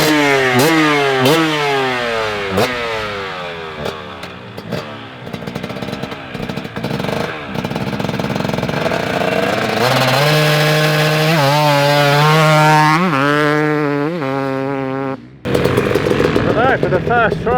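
A motorcycle engine revs hard through the gears on a hot lap, rising and falling in repeated sweeps, loud and close, with abrupt shifts and a brief cut near the end.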